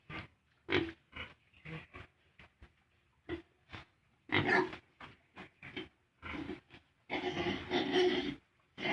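Weaned piglets on a farm grunting in short, irregular bursts, close and fairly loud, with a denser run of overlapping grunts and snorts near the end and no talk.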